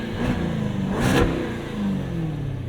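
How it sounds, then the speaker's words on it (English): A 2023 Jaguar F-Type R's V8 idles with a deep burble, then blips up to a brief throaty rev near the one-second mark before settling back to a loud, steady idle. "Let you hear this magnificent V8."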